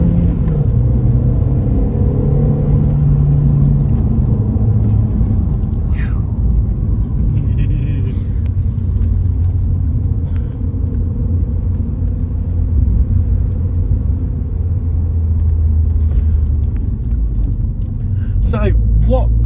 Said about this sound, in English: Turbo's kicked in now.